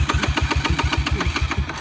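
A motorbike engine that is failing to start turns over in a fast, even run of loud, close pulses, repeating steadily without catching into a smooth idle.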